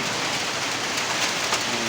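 Heavy nighttime rain pounds a tin roof during a storm in Niamatpur, Naogaon: a dense, unbroken roar of drumming drops, loud and close, with no voices.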